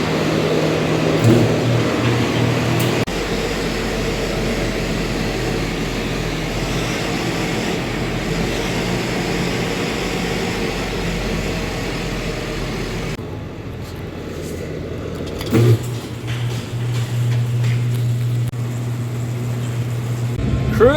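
A vehicle with its front axles and hubs dropped is driven for a short warm-up run, its engine and road noise a steady continuous rumble that stays close for the whole stretch, with a brief change in tone partway through and no talk.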